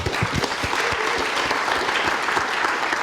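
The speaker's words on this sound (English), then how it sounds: "So one more round of applause." Audience applause at an entrepreneur night event, a dense steady wash of clapping from a large crowd that holds at even loudness throughout with no voices over it.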